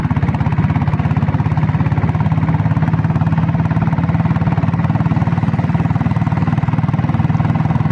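A Royal Enfield diesel Bullet motorcycle engine runs close by with a loud, steady, low rapid thumping and no pauses or talk.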